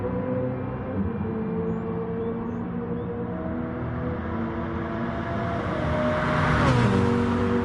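A Gr3 racing car in a sim racing game runs flat out along the Suzuka back straight after Spoon, its engine a loud, steady, rising drone that climbs in pitch toward the end, with no gear change.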